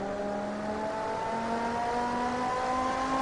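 A clean-sounding V8 race car engine in the Total Immersion Racing video game, a steady droning hum with a slowly rising pitch as the car accelerates, constant and close.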